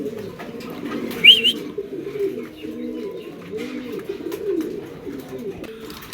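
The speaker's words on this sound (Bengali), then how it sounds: "এখানে হচ্ছে একজোড়া মুন্ডিয়ান কবুতর" Mundian pigeons cooing at a pigeon farm, low rolling coos repeating steadily throughout, with a brief higher chirp early on and a voice talking over them.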